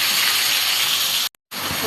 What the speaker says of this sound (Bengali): ওই তেলের মধ্যে করে আমি এই পেস্টটা একটু ঢেলে দিলাম